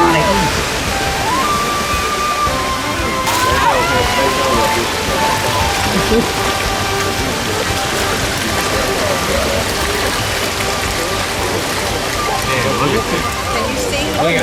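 A waterfall at a trout pond crossing gives a loud, continuous rushing splash that holds steady through the whole stretch. People talk faintly under the noise of the water.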